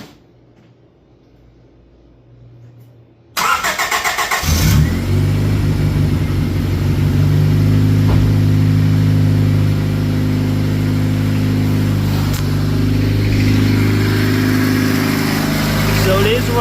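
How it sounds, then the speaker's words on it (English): A Honda car engine cranks and fires up after fuel injector work, catching abruptly after a quiet stretch and then running loudly at a steady idle close by, with a few brief revs and clatters over the continuous drone. "So it is running, and no leaks."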